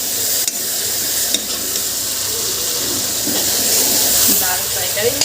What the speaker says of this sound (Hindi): दाल फ्राई करेंगे